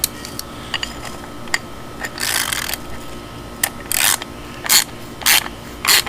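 A tap cutting threads into an aluminum mandrel makes a series of short metallic clicks and scraping ratchet-like bursts, irregular and close, with no talk.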